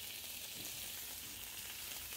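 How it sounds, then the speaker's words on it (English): Chicken fries in olive oil in a hot pan, giving a steady, dense crackling sizzle from start to finish with no voices over it. "before putting the chicken on the stove, I always make sure that the pan is sizzling hot like this"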